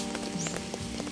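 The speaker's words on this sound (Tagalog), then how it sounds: "Maambon." Light drizzle patters on surfaces outdoors by a house as a soft, steady wash of scattered drops over a constant low hum.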